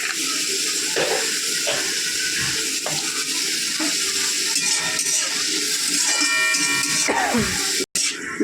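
Chopped onion, green chili and garlic fry in hot oil in a pan with a steady sizzle, while a utensil stirs and scrapes in repeated passes close to the microphone.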